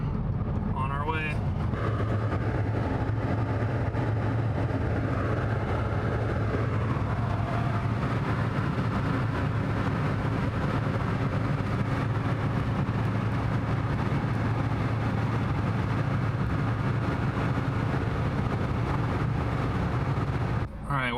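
Steady road and engine rumble from inside a Toyota Corolla as it drives along, a constant low drone holding at the same level from start to finish.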